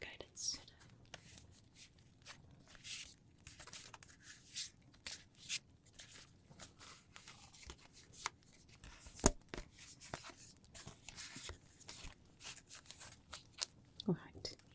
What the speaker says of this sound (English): close your eyes as you listen to me shuffling these cards